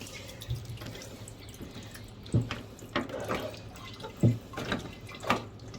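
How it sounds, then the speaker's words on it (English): Water drains from a washing machine filter into a catch, with soft drips and splashes in irregular bursts close by, fairly quiet, with no speech. "So water coming out is normal."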